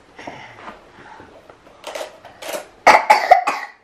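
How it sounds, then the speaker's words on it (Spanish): A few quiet sounds, then several sharp coughs in quick succession, growing louder toward the end. "Otro con tos."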